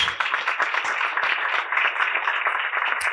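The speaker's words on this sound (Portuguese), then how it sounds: "a quem eu peço uma salva de palmas" Applause from an audience at a university event for the philosopher Helena Teodoro: a continuous, somewhat muffled patter of many hands clapping, steady from start to finish.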